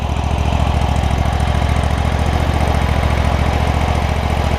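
A Kohler Command CV742 25-horsepower V-twin engine on a John Deere ZTrak zero-turn mower idles steadily with a deep, even low-pitched throb, close and loud throughout, no voices.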